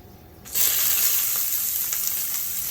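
Chopped large onion dropped into hot oil for mango rice, a quiet pan that bursts abruptly into loud continuous sizzling which then holds steady.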